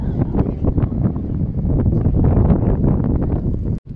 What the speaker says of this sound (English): That's really cool what's behind us, but a little bit windy up on this pier.